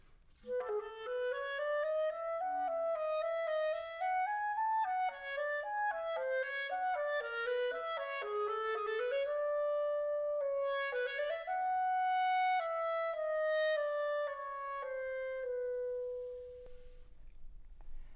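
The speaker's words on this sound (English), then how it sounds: "I'm Staff Sergeant Joel Clanky, and this is the clarinet." A solo clarinet plays a flowing melodic line with a warm, clear tone, notes rising and falling, ending on a long sustained note that fades out.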